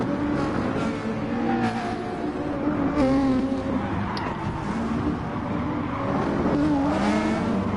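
GT1 race cars roaring in GT Sport at the Nürburgring GP circuit, several engines droning and revving together in a steady, loud, close stream of high-pitched motor whine.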